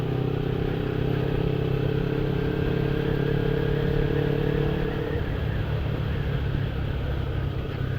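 A Kawasaki Ninja 250 motorcycle engine, swapped from a carburetted to a fuel-injected setup. It drones steadily nearby with a rough, throbbing idle, and the revs rise and then settle partway through.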